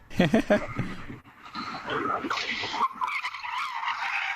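A car drifting with its tires skidding and squealing, a loud sustained screech that rises and holds over several seconds, with excited voices talking over it near the start.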